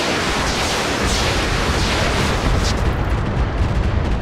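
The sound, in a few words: missiles firing in a mech video game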